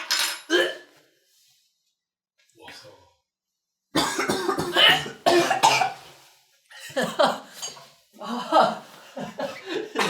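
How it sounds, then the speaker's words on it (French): A deliberate fake cough, one short burst, comes amid casual French chatter and chuckling at a table where coconut butter and other butters are being tasted, with a few quiet clinks of cutlery. "j'ai fait semblant de tousser"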